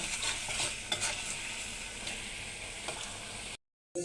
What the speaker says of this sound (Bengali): মশলা দিলাম, 5 মিনিট ধরে কষাইলাম।